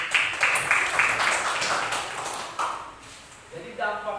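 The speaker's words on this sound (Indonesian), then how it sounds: "Oke, tepuk tangan dulu." Classroom audience applauding during an Indonesian teacher's presentation on the negative effects of street and school brawls, a burst of scattered clapping that fades out, with speech breaking in near the end.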